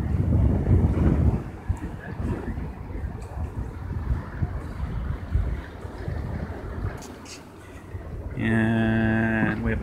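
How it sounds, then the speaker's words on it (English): Rough sea water churning and wind buffeting at the tip of a jetty, a loud turbulent wash with gusty rumble, ending in a brief harmonic tone. "The water is so rough today."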